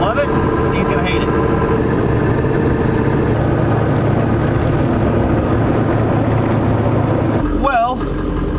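A Powerstroke diesel truck drives along with a steady, loud engine drone and road rumble inside the cab, and a voice speaks near the end.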